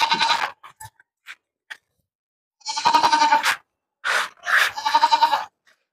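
Goats bleating at a goat market in Bowinpally, Hyderabad: a series of loud, close, quavering bleats, a short cry first, then scattered small noises and a pause, followed by two longer bleats near the end.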